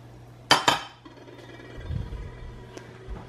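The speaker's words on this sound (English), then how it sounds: "I'm going to put in the carrots. In the garlic." Carrots and garlic go into a cooking pot with two quick, close metallic clinks and clatters. Softer rustling and low thuds follow as the ingredients settle.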